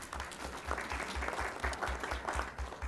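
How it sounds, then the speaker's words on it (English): An audience at an Omaha Public Schools board of education meeting claps steadily, a sustained dense round of applause with an even rhythm and no talking over it. "one more round of applause for our high school"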